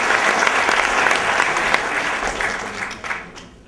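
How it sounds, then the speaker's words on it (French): An audience at the 2011 Tremplins awards ceremony applauds the Vatel team, a dense sustained clapping from a crowd that tapers off toward the end. "On peut applaudir encore l'équipe de Vatel."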